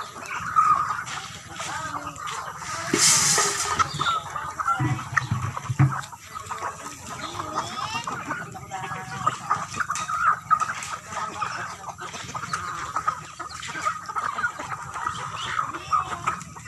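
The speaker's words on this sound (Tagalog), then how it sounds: "mga manok na may mga sisiw" Backyard chickens with chicks in a rural Philippine yard cluck steadily at close range, overlapping chirps and clucks running throughout with some background activity.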